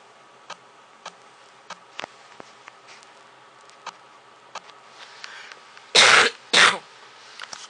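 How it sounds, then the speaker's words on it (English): Two short, harsh coughs burst out close by near the end, after a stretch of faint, evenly spaced ticking. "Sorry if I cough."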